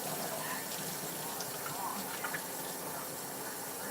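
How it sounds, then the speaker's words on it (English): Peaches rinsed under a running kitchen tap, a steady close splash and hiss of water streaming over fruit in a sink that continues without a break. "I'm actually going to rinse these peaches off because I don't want any more corn syrup in it"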